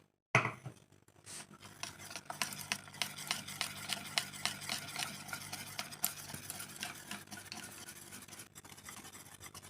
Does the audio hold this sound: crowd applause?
no